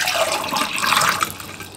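Liquid pours steadily into a sensory bucket for under two seconds, a close, continuous splashing rush that tapers off at the end, with no talking.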